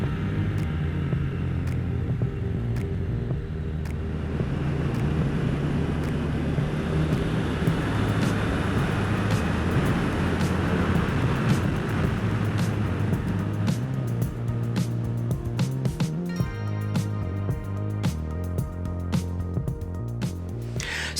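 Engine of a Triumph Speed Twin motorcycle with a high-torque twin, ridden in sixth gear at about 40 mph, a steady low throbbing rumble with wind noise, continuous and close.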